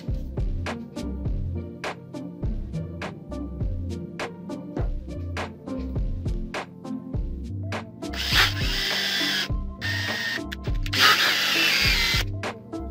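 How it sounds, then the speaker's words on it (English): A hand drill bores a hole in a handmade ring for setting a stone, giving a steady run of sharp rhythmic clicks and grinding turns, close up, with two bursts of harsher scraping near the end. "the hole is drilled"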